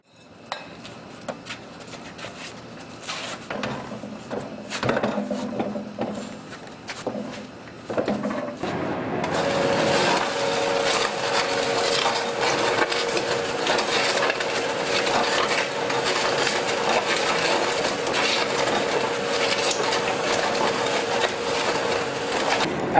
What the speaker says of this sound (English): A little bit of hand mixing helps.